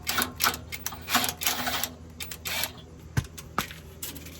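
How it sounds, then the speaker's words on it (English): A wrench working a crusty, loosened header bolt on a 2002 GMC Sierra, a series of sharp metallic clicks and ratcheting taps at an irregular pace, with a couple of louder knocks near the end. "I'll just try to back it off with my wrench"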